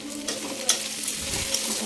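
Onions frying in a pan make a steady, close sizzle, with a faint scrape of stirring partway through and no voices.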